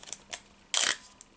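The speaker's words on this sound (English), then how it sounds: "nice shutter sound as well" An Olympus OM10 35mm film camera fires its shutter: a short, sharp mechanical snap near the mic, preceded by a couple of lighter clicks and followed by one more faint tick, with no talking.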